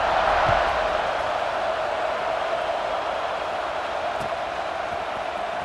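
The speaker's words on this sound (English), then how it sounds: "this crowd is buzzing after that last score" A stadium crowd buzzes in EA Sports College Football 26 after a score, a steady, dense, wide roar of many voices that holds at an even level throughout with no distinct cheers standing out.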